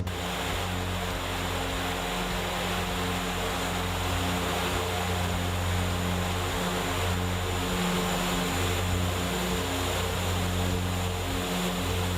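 Steady, loud drone of a Dash 8 Q400 turboprop airliner in cruise in X-Plane 12, a constant propeller hum with tonal engine lines, continuous and unchanging with no talk.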